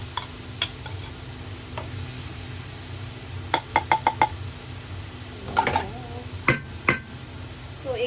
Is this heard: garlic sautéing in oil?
yes